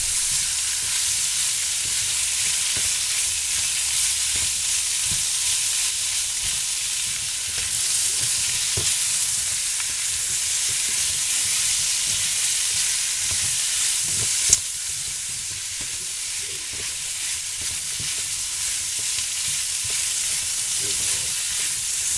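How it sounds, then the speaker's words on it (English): Leftover beef sizzles in a pan for a long stretch, a loud constant frying hiss broken by soft stirring scrapes and one sharp clack partway through. "Stirring that around."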